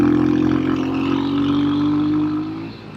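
Royal Enfield Hunter 350 custom trials-style motorcycle ridden on a rough road, engine holding a steady droning note with slight pitch shifts before it eases off, loud and close.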